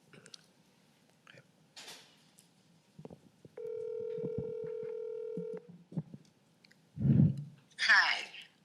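A telephone is dialed for a call during a city commission meeting: a steady electronic dial tone holds for about two seconds, followed by clicks and handling noises, with brief voices around it.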